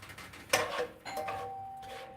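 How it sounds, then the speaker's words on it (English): A home doorbell rings indoors in a kitchen, sounding two chime tones: a bright strike and then a second tone that rings on as a sustained, fading note, clear and alone. "My doorbell just rang."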